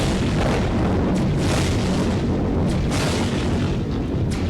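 Continuous loud booming video game gunfire fills the whole stretch, a dense, rumbling barrage with occasional sharper shots standing out.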